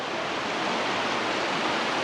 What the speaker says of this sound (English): There's like little waterfalls coming off it